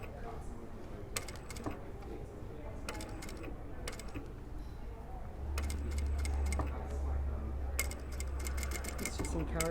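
A sewing machine runs an ease stitch along fabric in short bursts of rapid mechanical ticking, with a louder steady run near the end and a person speaking quietly between bursts.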